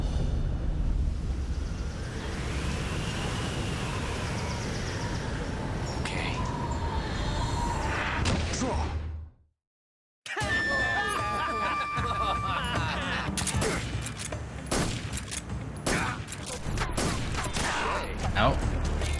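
Gunfire in the stealth game Metal Gear Solid 3, a dense outdoor soundscape with ambient birdsong and shots, cut by a brief silence before sharp, repeated gunshot bursts resume over busy background sound.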